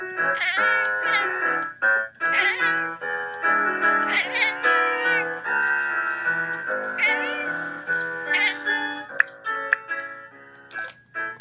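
Cat meows played as a live-stream super chat alert, a run of clear, close, tonal meows and mews repeating across the whole stretch with no talk over them.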